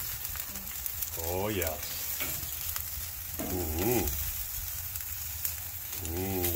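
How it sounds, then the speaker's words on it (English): Chicken and asparagus sizzling on a grill, a loud steady crackling hiss that runs throughout, close by, with a few spoken exclamations over it. "Well, those are on the grill now"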